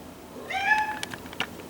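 A house cat gives a single clear, close meow that rises and falls, followed by a few faint soft clicks and taps in a quiet room.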